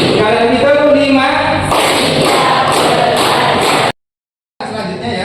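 A classroom of students clapping together in a quick rhythmic pattern, loud and close, with several bursts of claps followed by a short silence and another round.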